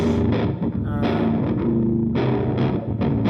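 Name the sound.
bit crusher effect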